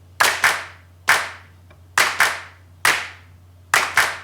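A programmed clap sample quantized at partial strength, so its timing sits slightly loose of the grid, plays in crisp, close pairs and singles in a steady repeating pattern, each hit decaying quickly into near silence.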